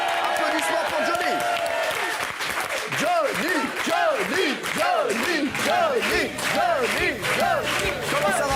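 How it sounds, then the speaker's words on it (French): A studio audience on a French TV show bursts into sustained applause and cheering for a Johnny Hallyday lookalike, loud and close. A voice rings out in whoops and shouts over the dense clapping throughout. "Applaudissements pour Johnny."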